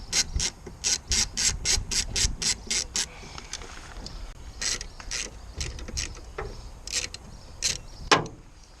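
Ratcheting clicks from a T30 Torx driver loosening the wiper motor screws on a Ford Fiesta MK6, a quick run of evenly spaced sharp clicks followed by slower, scattered turns and a louder clack near the end, close and alone.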